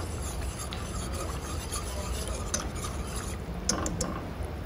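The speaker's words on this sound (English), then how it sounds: "we're gonna whisk it all in to make sure we don't have any lumps" A pan sauce of heavy cream and Parmesan cheese being whisked, soft steady scraping and swishing strokes, quiet and close, with a few light clinks toward the end and no talking.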